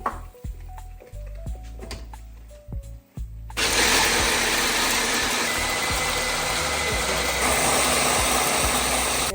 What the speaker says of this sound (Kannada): ನುಣ್ಣಗೆ ರುಬ್ಕೋತೀನಿ.